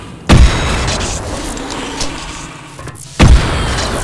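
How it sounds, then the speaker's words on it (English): Two loud booming blasts from the destroyed mounted guns in Duke Nukem 3D, one near the start and another about three seconds later, with a rumbling in-game ambience between them. "if you see the explosion happen outside the window"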